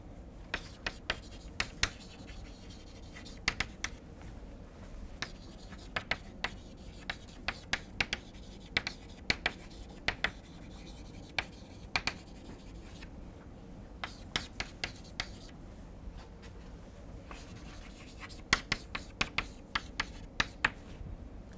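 A theorem statement about linear operators is written out by hand in soft, scratchy, intermittent strokes, close and quiet, with no talking.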